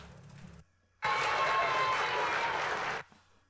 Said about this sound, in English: We'll give him a little applause.